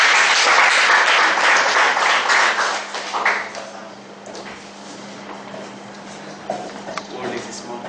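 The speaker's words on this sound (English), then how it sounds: "Please welcome him with a huge round of applause." An audience applauds to welcome a speaker at a speakers forum, with loud, dense clapping that fades after about three seconds into scattered claps and room murmur.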